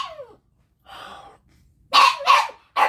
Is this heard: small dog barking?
yes